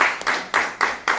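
Audience of farmers at a crop insurance payout event clapping in a steady rhythm, about five sharp, loud claps evenly spaced in quick succession, close and clear.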